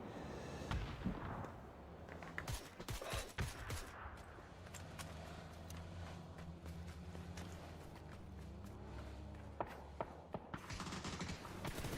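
Gunfire rattles through a video game match, with bursts of close, sharp shots and scattered pops early on, then a steadier stretch of rumbling gameplay sound with a few later shots and no talk.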